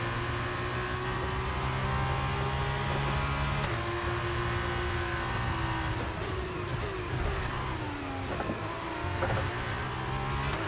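F1 race car engine in the video game F1 22, screaming and climbing in pitch as it accelerates through repeated gear shifts, loud and continuous with no voices.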